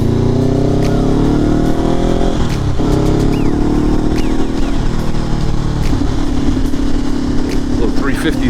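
A Nissan 350Z convertible's engine drones steadily while driving, a loud continuous motor hum with low harmonics under someone talking.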